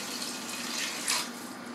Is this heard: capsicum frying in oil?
no